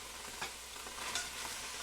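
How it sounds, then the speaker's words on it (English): Broth poured into a hot soup pot over lightly browned leeks, deglazing the browned bits with a soft, steady sizzle and faint stirring scrapes, close and quiet, no voices. "it's deglazing that tiny bit of brown in the pot"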